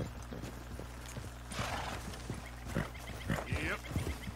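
A horse in Red Dead Redemption 2, hooves clip-clopping at a slow walk in scattered close thuds, with soft tack rattles and a brief swish of movement.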